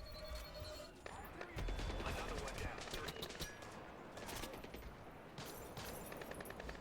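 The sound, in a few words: gunshots in a shooter video game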